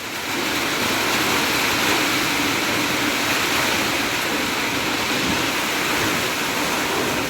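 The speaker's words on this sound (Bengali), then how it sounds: "আবার নেমেছে বৃষ্টি জোরে" Heavy rain pours down in a steady, loud, unbroken roar with no voices, the downpour filling the whole scene evenly from start to finish.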